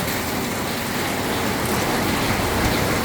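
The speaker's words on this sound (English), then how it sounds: "The rain kind of comes and goes here." Steady rain falls in a cool outdoor spot near an upper deck, a dense, even hiss that holds at a constant level throughout, with no voices.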